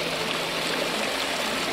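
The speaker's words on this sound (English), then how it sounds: "Now this here's the reservoir. It provides the water for the mill tail race." Water runs steadily from a mill reservoir into the tail race, a continuous broadband rush of flow with no break, fairly close and alone.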